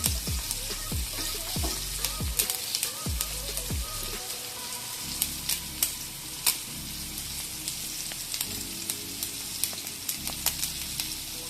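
Fish curry ingredients cooking in a pan, a close, crackling sizzle with a run of rhythmic stirring knocks early on, then steady spitting pops, no talk.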